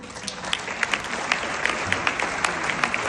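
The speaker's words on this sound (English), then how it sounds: "give a loud clap for that" An audience claps at an award ceremony, a dense steady patter of many hands with occasional sharper individual claps standing out, filling the room at moderate loudness.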